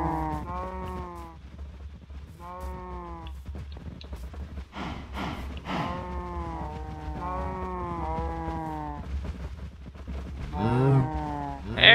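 Cows mooing in Minecraft Bedrock Edition, a series of repeated drawn-out moos in close succession, several overlapping calls, fairly loud and near, with no speech over them.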